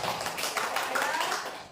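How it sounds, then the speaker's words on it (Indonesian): An indoor audience applauds at a positive-culture dissemination session, dense steady clapping filling the short moment without a break. "tepuk tangan untuk kita semua"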